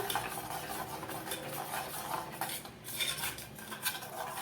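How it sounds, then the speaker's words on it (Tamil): A spoon stirring thick ragi flour dough in a pan, continuous scraping and clinking of metal against the pan in a steady rhythm, close and fairly quiet with no talk. "நல்லா கிளறிக்கலாம் ஏன்னா அந்த மாவு நல்லா கெட்டி ஆகணும் அதனால் கிண்டிக்கலாம்"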